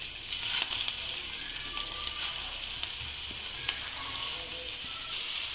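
Mutton keema balls fry in hot oil in a pan, giving a steady bright sizzle with scattered small pops and clicks throughout, moderately loud and without talk.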